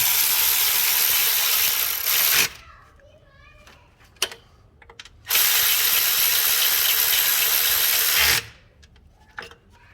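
A ratchet tightens bolts during injector replacement on a 2005-2015 Toyota Tacoma 4.0L V6, in two long loud bursts of rapid clicking separated by quieter tool clanks and brief knocks.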